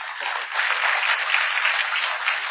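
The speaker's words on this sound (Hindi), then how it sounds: "इस बात पर जोर से तालियां होनी चाहिए" A steady burst of hand clapping from a conference audience, dense and even, lasting a couple of seconds with no talking over it.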